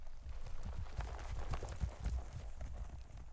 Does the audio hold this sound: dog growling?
no